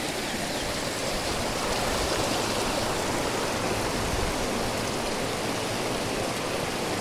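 A clear river stream rushing steadily nearby, a dense, even wash of flowing water that fills the whole stretch without pauses and with no voices.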